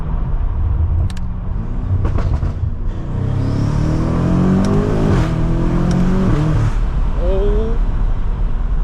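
BMW F90 M5 Competition, a roughly 700 hp sedan, accelerating hard on an icy road. The engine note climbs in loud, rising sweeps through the gears with brief breaks between pulls, heard close and up front throughout.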